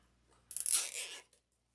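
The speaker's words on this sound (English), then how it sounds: "You can tear a bow apart." A fabric ribbon bow is torn apart by hand in one short, close ripping burst of under a second, starting sharply and fading quickly into quiet, with no talking.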